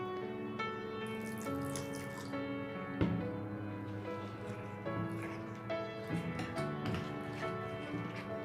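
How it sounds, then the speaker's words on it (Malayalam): Water poured into potato slice pakora batter in a bowl, a light continuous trickle with small splashes over a faint background hum, close by. "കുറച്ചുകൂടെ വെള്ളം ഒഴിച്ചു കൊടുക്കാം"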